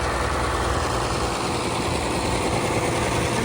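A Case R110 tractor with a diesel engine idling at an outdoor vintage farm machinery show, a loud, steady, unbroken low rumble heard close up, with no talk over it.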